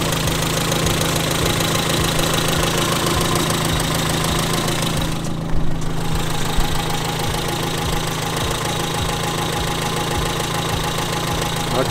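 A 1984 Honda Civic engine, with a known carburettor adjustment problem, idling steadily after starting: a loud, constant mid-pitched running drone with a fine rhythmic knock, close by, with no talk.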